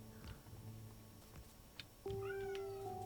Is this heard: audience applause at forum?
no